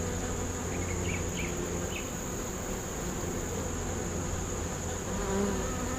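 Honey bees buzzing steadily at an open beehive being worked with a hive tool, a dense continuous insect drone close by with no speech.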